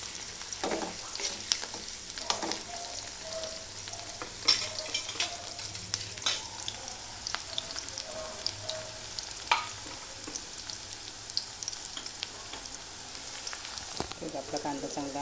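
Onion fries in oil for masoor dal, making a soft, constant sizzle with frequent small crackles and pops and occasional stirring scrapes, fairly quiet, with no one talking.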